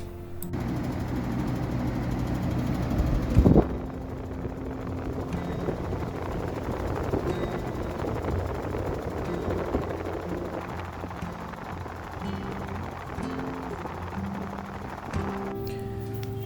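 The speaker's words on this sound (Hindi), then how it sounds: "एसी के आउटर यूनिट से ये रैटलिंग वाला साउंड आने पर मैंने तुरंत से सर्विस सेंटर को कॉल किया" A Blue Star 2-ton 5-star split air conditioner's outdoor unit from 2025 rattles continuously with a dense, buzzing mechanical clatter, steady and close throughout, with one brief sharper bang early on.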